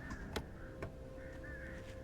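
Birds caw in the video game Alan Wake: two sharp, harsh crow calls close together near the start, then softer cawing over a quiet ambient bed.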